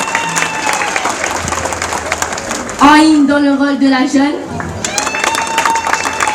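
Audience at a madrasah theatre performance in La Réunion clapping steadily under an announcer's voice introducing the cast, with a sung or sustained voiced tone rising briefly above the applause midway.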